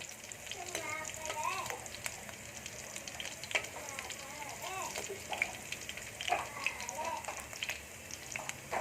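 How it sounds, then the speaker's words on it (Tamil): Green chilies frying in a pan for an egg bhurji, a continuous close sizzle and crackle with scraping stirs throughout. "கொஞ்சம் ஃப்ரை ஆயிரட்டும் பச்சை மிளகாய்"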